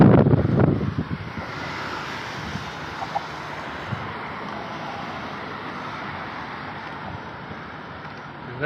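Strong wind buffets a phone microphone on a seashore in Navi Mumbai, a loud rushing roar with gusts that dominates throughout; a brief voice is heard at the start.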